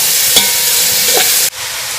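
Diced salmon sizzles steadily in a hot pan, a bright crackling hiss with a couple of faint stirring scrapes; the sizzle abruptly shifts partway through.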